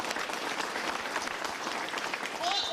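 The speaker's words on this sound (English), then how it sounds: "So give them a round of applause and tap them on the shoulder" A crowd applauds at the opening of the new PATCO Franklin Square transit station in Philadelphia, a steady wash of clapping that lasts the whole short stretch, with a voice faintly audible underneath.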